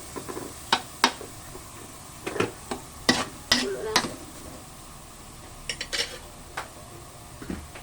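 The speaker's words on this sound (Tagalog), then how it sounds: "Halo lang natin muna mga kapalangga bago takpan." A ladle clinks and scrapes inside a metal pot of pork bone soup (nilagang buto-buto) as it is stirred before the lid goes on, a scattered run of sharp, fairly quiet knocks separated by short pauses.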